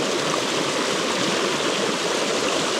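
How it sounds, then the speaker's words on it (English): A Dartmoor stream in rainy weather runs in a constant, dense rush of flowing water, close and steady throughout with no voices. "This water flow is certainly a hell of a lot different to what we have had."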